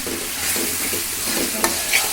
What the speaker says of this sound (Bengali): মশলাটা ভাজা হয়ে গিয়েছে